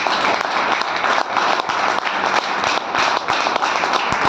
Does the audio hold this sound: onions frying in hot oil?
no